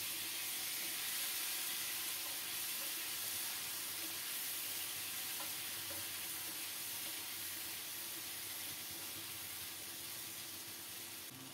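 Taro pieces dropped into hot oil with fried onion and five-spice give a steady, fairly loud broadband sizzle and hiss that stays even throughout, with no voices.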